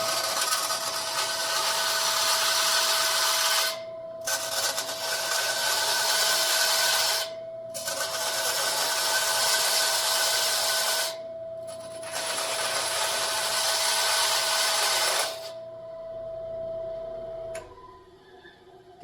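Power sander grinding through a tractor part during prep before paint, running in four long loud broadband passes separated by brief pauses, with a steady high whine throughout and a quieter tail at the end.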